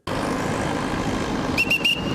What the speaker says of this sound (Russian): Свисток инспектора